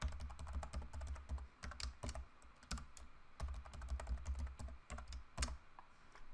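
Rapid, steady typing on a computer keyboard while a password is entered during a McAfee Vulnerability Manager 7.5 software installation. Close, crisp key clicks come in quick bursts with brief pauses, and no one speaks.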